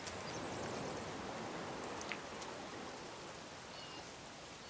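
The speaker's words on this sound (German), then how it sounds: "Guck mal, kaum regnet es, ist alles hier unter Wasser." Steady rain falling in the survival video game The Forest, a soft even hiss of drops on surfaces with no break and no voices.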